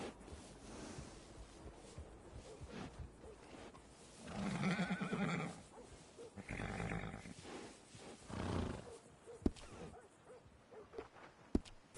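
A horse neighing in Red Dead Redemption 2, with several loud whinnying bursts over ambient game background noise and a few sharp clicks near the end.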